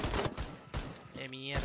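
Gunfire in the Roblox shooter Phantom Forces on the Mirage map: quick bursts of sharp shots in a rapid volley, fairly close, with a brief electronic tone near the end.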